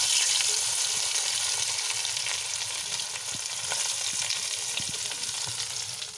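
Steamed pointed gourds frying in plenty of mustard oil with a little turmeric, for an egg-stuffed gourd dish, give a steady close sizzle with scattered pops and spits, and no one speaking.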